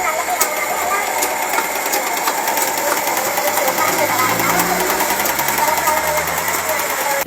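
A sewing machine runs steadily in Thankan's small tailor shop in Velur, its fast mechanical whir continuous and fairly close, with busy room background and no clear talk over it.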